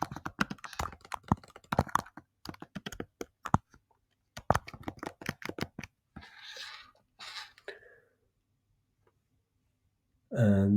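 Rapid bursts of close computer keyboard typing filling in a form, quick clustered clicks in two runs with short pauses, followed by a brief rustle and a sharp loud sound at the end.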